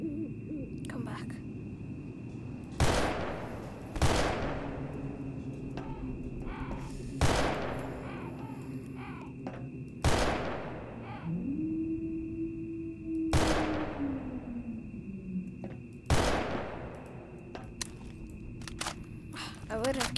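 Gunfire in the game Garry's Mod: six sharp, loud shots spaced a few seconds apart, each ringing off over a steady tonal hum, with a rising and falling whine in the middle.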